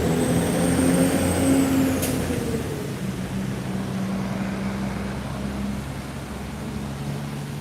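A long truck trailer rolls past on a street in East New York, a loud engine rumble with an air brake hiss near the start, fading to a steady traffic drone.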